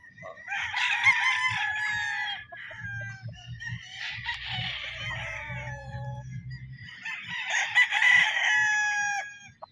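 Roosters crow loudly and repeatedly on a gamefowl farm, three long strained crows close by, with clucking and low farm noise underneath between them.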